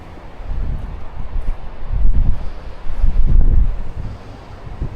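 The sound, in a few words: wind blowing outdoors at the Tipaza ruins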